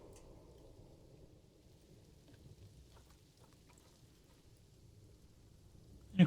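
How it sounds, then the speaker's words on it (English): Video game rain hiss with a low rumbling undertone of thunder throughout, ending in a sudden louder burst at the very end. "And of course, it's raining some more"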